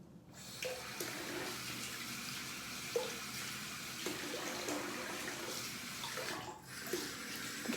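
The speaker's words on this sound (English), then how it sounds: "Let's rinse off." Bath water splashing and running steadily as soap is rinsed off the body, a faint, continuous wash with small splashes and no talking.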